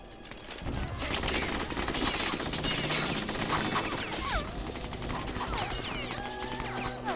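Bursts of gunfire in Metal Gear Solid 2: Sons of Liberty, a dense, steady fusillade of rapid shots with crashing impacts, close and loud throughout, with brief voice fragments and electronic chirps in the mix.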